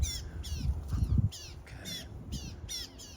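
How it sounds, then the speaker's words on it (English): Crows caw repeatedly in short bursts, somewhat distant, over a low rumbling background on a farm. "Birds are waiting, I can hear them."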